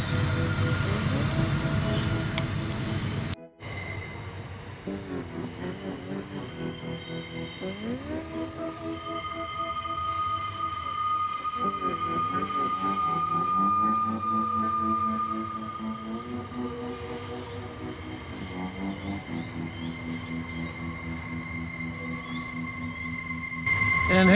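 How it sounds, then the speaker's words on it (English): Train brakes squeal high and shrill in long, wavering tones while a train rolls steadily nearby in a national park, starting after a sharp cut in a loud rumble. "And who doesn't love squealing brakes in the morning?"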